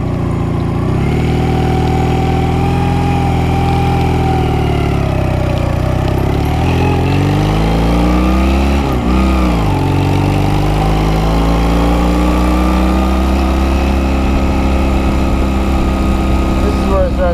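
A motorcycle engine drones loud and close while riding up the Mount Washington Auto Road, a steady throbbing note that dips and rises with shifting revs throughout, with wind noise underneath.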